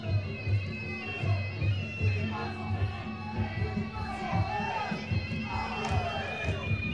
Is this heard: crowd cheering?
yes